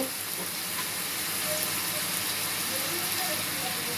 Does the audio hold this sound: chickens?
no